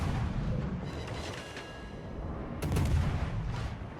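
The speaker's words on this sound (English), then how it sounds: "I'm just going to start putting some shells into him here around the corner." Naval ship guns firing shells in a naval combat video game, heard as rumbling booms within dense battle noise, with a heavier blast burst near the end.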